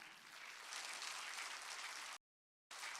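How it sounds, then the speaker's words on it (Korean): A church congregation applauds in a steady, dense burst of clapping, then drops into a brief silence before the clapping resumes. "박수 좀 쳐줘요."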